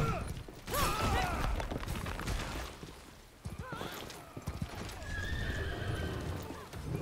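Galloping hoof clip-clops and repeated whinnying neighs from a horse in the medieval combat video game Warhaven, loud and close amid battle noise with brief shouting.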